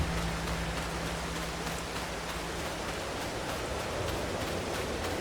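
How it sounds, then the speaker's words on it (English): Rain falling in the Farming Simulator 22 video game, a steady, even hiss of heavy rainfall with no voices. "It's raining."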